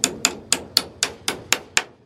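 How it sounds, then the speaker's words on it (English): Eight sharp, evenly spaced hammer blows drive a freshly cut board into place on a wooden chicken coop, close and crisp, each strike about a quarter second apart with no talking. "Now that you got your board cut, just hammer it in place."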